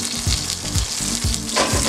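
Oil sizzles steadily in a very hot non-stick pan with a rosemary sprig, a dense crackling hiss with rhythmic pulses as it is stirred or swirled, close and loud, with no talking.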